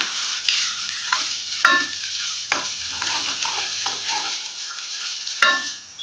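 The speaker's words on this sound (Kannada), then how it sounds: "ಅದಕ್ಕೆ ನೀಟಾಗಿ 1-2 ನಿಮಿಷ ಫ್ರೈ ಮಾಡ್ಕೊಳ್ಳಿ." Ginger-garlic masala paste frying in a pan for a Kannada-style egg fry, with a steady hiss of sizzling oil and a few sharp clacks of a spoon stirring against the pan. No one talks.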